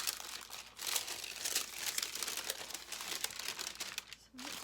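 Crinkly backing material for a tuck card crumpled and handled up close, a steady stream of soft crackling and rustling, quiet and continuous, no voices.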